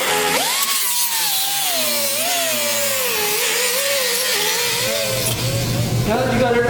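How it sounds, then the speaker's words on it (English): A power grinder works down the excess on welded metal plates of a Super Jet jet ski hull, a loud, steady, high whine with shifting pitch as the disc bears on the plates, continuous and close, with no talk over it. "So we're just going to give it a good grind and clean up"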